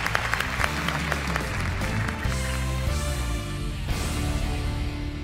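An audience on a televised singing competition applauds, a dense steady clatter of many hands lasting about five seconds, moderately loud with faint tonal music underneath.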